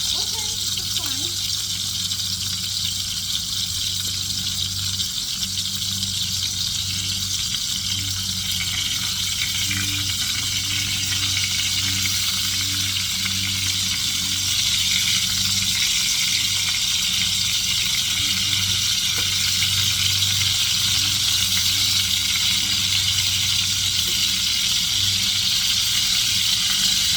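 Onion sizzling with a little salt in sausage drippings in a pan, a steady hissing crackle throughout, under continuous talking.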